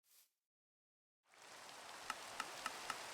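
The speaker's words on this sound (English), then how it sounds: "Ah, and it's raining." Rain falls in the Minecraft modpack Sevtech Ages as a steady, soft hiss that starts after a brief silence, with a few faint regular clicks heard above it.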